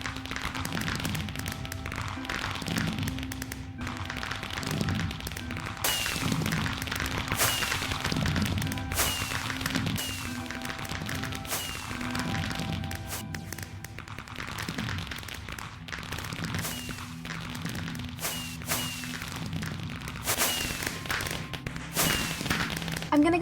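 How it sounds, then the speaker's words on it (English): A Minecraft fireworks show: a steady run of pops, bangs and crackling bursts, some close and sharp, others softer, layered over sustained background music tones for the whole stretch. "please enjoy this lovely fireworks show"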